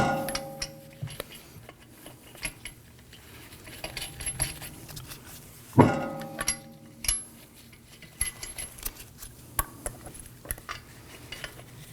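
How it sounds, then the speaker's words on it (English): Lug nuts are threaded by hand onto a rear wheel of a 2018-2025 Toyota Camry, giving light metallic clinks and jingles at close range, with one sharper clank in the middle and quiet pauses between. "Let's go ahead and get all of our lug nuts started"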